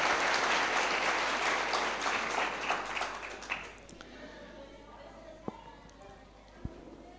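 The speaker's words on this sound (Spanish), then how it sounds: "Dale un aplauso a Jesús." A church congregation claps together in a dense, loud burst that fades after a few seconds into quieter room noise with a couple of isolated knocks.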